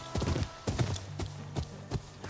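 Horses in the video game Ghost of Yōtei clop along, giving uneven bursts of hoofbeats with a brief low snort, moderately close, with no talk.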